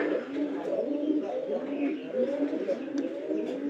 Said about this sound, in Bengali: কবুতরগুলো কিন্তু ডাক অনেকটা ভালো আছে